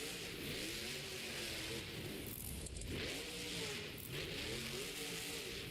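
Monster Jam monster truck engine revving loudly during a sky wheelie in a stadium, with repeated surging rises and falls of a roaring motor amid crowd noise.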